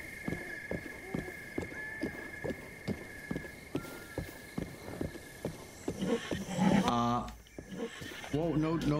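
Horse in Zelda: Breath of the Wild, steady rhythmic hoofbeats of a ridden horse, then a loud whinny near the end, with someone talking over parts of it.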